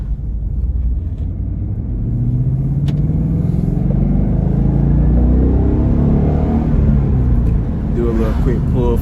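Ford Mustang GT with a six-speed manual makes a quick acceleration pull, its engine a loud deep rumble rising steadily in pitch across several seconds, with a person talking over it.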